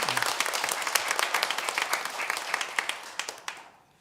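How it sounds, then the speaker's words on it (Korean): A church congregation gathered for a New Year's Sunday service applauds together, a dense wash of clapping that holds steady for about three and a half seconds, then quickly tapers off. "하나님이 상 주시는 수고가 될 수 있도록 박수해 주시고 기원합니다."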